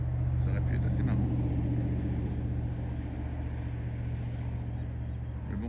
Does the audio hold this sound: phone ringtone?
no